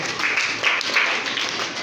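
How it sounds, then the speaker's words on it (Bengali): A roomful of primary-school children in a Bangladeshi classroom clap for a classmate, a dense, steady patter of many small hands that keeps up for the whole stretch. "ওর জন্য একটা হাতে তালি জোরে"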